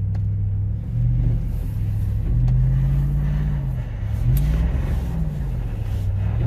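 Toyota Tundra Double Cab pickup engine revving in first gear while sliding through snow, a loud close rumble that rises and falls in several throttle swells.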